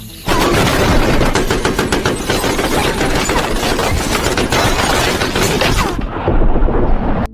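A sudden, sustained volley of many gunshots fired at once in a mafia and corrupt-police action scene: loud, dense, rapid crackling bursts that run for about six seconds with no speech, then ease into a rumbling tail.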